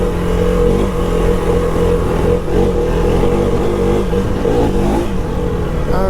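A KTM 390 Adventure motorcycle accelerates hard on an open road, its single-cylinder engine pulling loud and steady under heavy wind rush throughout, with no talking.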